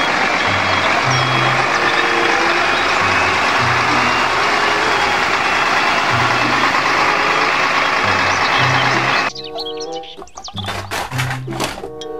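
A concrete mixer truck engine rumbles steadily and loudly while its reversing alarm beeps at regular intervals underneath, then the scene cuts abruptly to a different, choppier mix of sounds.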